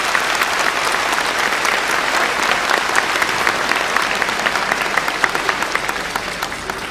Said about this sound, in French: le pasteur Clément Lecossec, que je vous demande s'il vous plaît d'applaudir pour la circonstance.